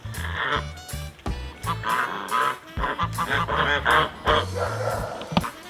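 Several farm geese honk and squawk in bursts close by, loud and overlapping in an irregular chorus with short pauses between calls.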